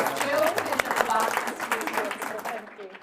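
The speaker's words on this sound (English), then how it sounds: "Could we give our panel a round of applause," Audience at a members' meeting applauds a panel, a dense wash of clapping at moderate level that fades out toward the end, with voices mixed in.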